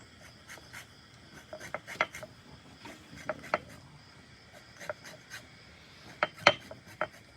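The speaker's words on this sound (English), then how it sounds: "So I'm going to get some lemon zest here." Lemon being zested for moo goo gai pan cooked in a hot cowboy wok: a run of short, dry rasping scrapes at an uneven rhythm, close and fairly quiet, with a few sharper strokes standing out and no talk.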